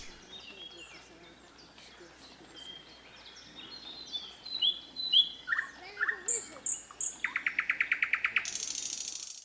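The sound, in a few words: bird singing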